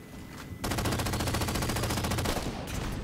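Gunfire in a Halo match comes as a rapid, evenly spaced burst of loud shots lasting about two seconds after a short quieter lead-in, with no talking over it.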